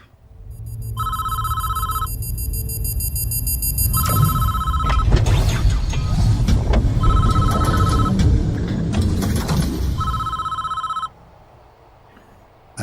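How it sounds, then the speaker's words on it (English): Telephone ringing in the prison-management video game Prison Architect, four loud electronic rings in even bursts over busy game ambience that stops abruptly near the end. "that phone wouldn't stop ringing"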